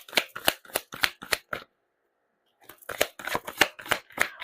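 A deck of prayer cards is shuffled up close in quick, crisp riffling bursts, then a pause of silence, then another run of rapid flicking shuffles, with no voices.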